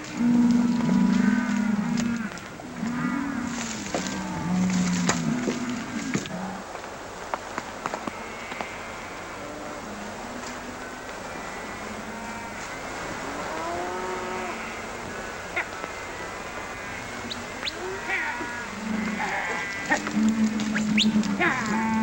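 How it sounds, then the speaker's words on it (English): Herd of cattle on open Wyoming range in a 1937 film, with deep, drawn-out moos overlapping loudly at first, then thinning to scattered calls over a hissy background with clattering. "We gotta get these cattle out of here before they spot us."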